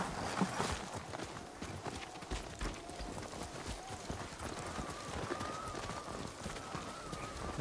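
Horse hooves clip-clop steadily in a quick rhythm at a moderate distance in the video game Ghost of Tsushima, with faint birdsong and ambient outdoor noise behind them.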